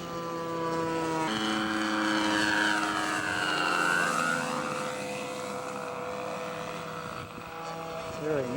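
A scale model Spitfire flies at an aircraft show, its engine droning with a sweeping pitch as it passes and descends in a turn, steady and fairly loud, with voices talking underneath.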